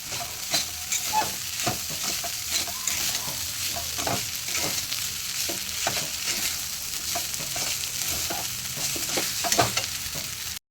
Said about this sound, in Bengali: এবার সবজিগুলিও দিয়ে দেবো, যে সবজিগুলি আমি ভেজে রেখে দিয়েছিলাম, দিয়ে ভালোভাবে নাড়াচাড়া করে নেব।